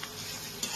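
Chow mein spice mix being stirred in a pan, giving a quiet, brief sizzling scrape that stays soft and steady.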